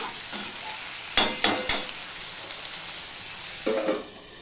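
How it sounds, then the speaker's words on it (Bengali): Steady frying sizzle of potatoes and onions in a covered pan with a few sharp stirring scrapes and clatters, no voices. "দিয়ে এবার আমি ঢাকা দিয়ে দিয়েই ভেজে নেব"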